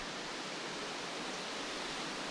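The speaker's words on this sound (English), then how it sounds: "You can get behind this waterfall" Bindaree Falls on the Howqua River pours down a huge rock face in a steady, dense rushing roar, continuous and even, with no voices over it.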